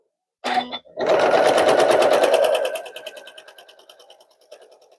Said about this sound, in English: I'm going to just sew down this side